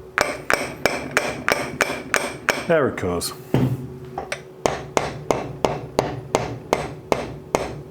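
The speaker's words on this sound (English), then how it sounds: "I'm just using the wooden handle of the hammer against the casting," A hammer's wooden handle taps a metal casting from a milling head again and again in a steady rhythm. The knocks are loud and close, with a short pause and a brief spoken remark in the middle.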